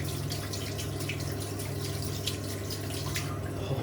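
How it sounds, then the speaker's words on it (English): Cold water pours steadily from a tap, a continuous mid-level rushing splash with a low steady hum beneath it and no voices. "let's get the cold water out"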